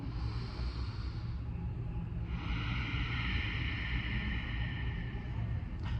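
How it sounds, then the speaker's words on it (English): A slow, airy ujjayi breathing exhale drawn through a constricted throat, hissing and rushing like distant surf, close to the mic over a low rumble. "the exhale is going to sound like you're listening to the ocean in a shell"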